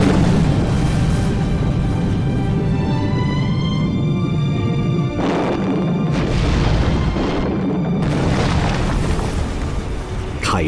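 Rumbling blasts from rock excavation on the southern slopes of the Taihang Mountains in Henan, with broad, loud booming bursts rolling over a continuous roar, the heaviest bursts arriving near the middle and end.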